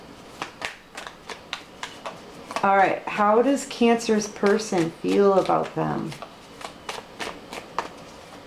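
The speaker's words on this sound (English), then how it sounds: "I'm not done shuffling it yet" Rapid riffling taps of cards being shuffled, steady and close, continuing before, under and after a stretch of speech.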